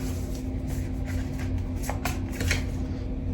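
Tarot cards are shuffled by hand in a close, continuous riffling flutter, with several sharper bursts of card slaps as the deck is worked.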